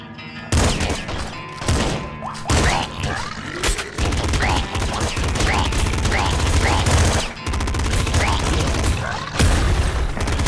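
Rapid bursts of pop gun fire from the video game Nuclear Throne, repeated shots in quick succession over a busy, loud game soundtrack with other effects.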